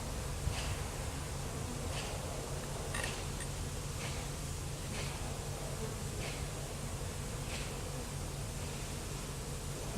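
Dense, steady insect drone of bees swarming around an open beehive during an inspection and feeding, a continuous close buzz with faint clicks and bumps throughout, no talking.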